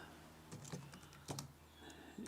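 Short bursts of keystrokes on a computer keyboard as a comment is entered, a few quick taps clustered in two or three small groups, close and fairly quiet with no talking.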